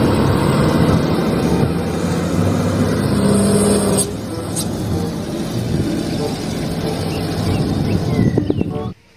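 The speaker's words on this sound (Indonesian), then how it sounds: "ini mobil dump truck." Toy dump truck motor running with a revving, engine-like whir, loud and close, easing to a lower steady hum midway and then stopping suddenly near the end.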